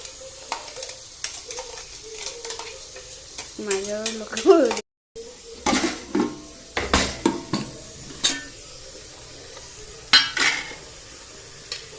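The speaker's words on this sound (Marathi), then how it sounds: "तेल टाकलेलं आधी. त्यात चटणीचं, मिरची आणि लसूणचं वाटण टाकूया." Chili and garlic paste sizzling in hot oil in a pan before eggplant is added, with steady frying hiss, stirring scrapes and clinks of a utensil against the pot.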